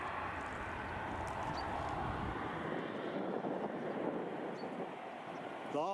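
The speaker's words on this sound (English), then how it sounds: "a Ryanair inbound from Lanzarote." A Ryanair jet inbound to Edinburgh airport from Lanzarote, its engine noise a faint, distant rumbling roar that fades slightly, with light wind buffeting the microphone and no voices.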